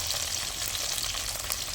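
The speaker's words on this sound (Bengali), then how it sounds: "পেঁয়াজটা হালকা ভাজা হয়ে যেতে" Onions and green chillies fry in a hot pan with a steady, close, dense sizzle that holds evenly throughout, with no talking.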